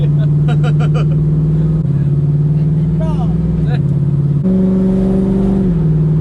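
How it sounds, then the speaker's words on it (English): A classic car's engine idles and revs up and down with a deep, throaty exhaust rumble, close by, while people talk over it. "it sounds better than the other exhaust"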